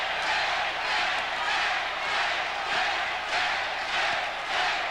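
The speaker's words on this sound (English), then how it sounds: "Crowd chanting for Tate." A boxing crowd chants for Frank Tate during his 1987 fight against Michael Olajide, a loud, rhythmic swell of voices rising and falling in repeated waves that fill the arena.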